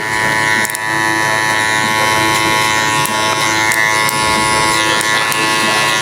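Electric hair clippers buzz steadily and loudly up close while trimming a child's hair at a 1.5 lever setting over a comb, a continuous whine with slight shifts as the blade moves through the hair.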